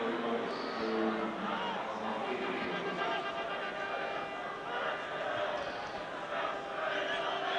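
Liverpool supporters on the Kop at a football match against Spurs, a broad steady crowd roar and chanting filling the stadium, distant and continuous under a match commentator.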